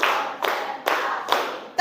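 A classroom of students claps in counted unison during an ice-breaking exercise, with four sharp group claps spaced evenly about every 0.4 seconds. A teacher's voice counts between them.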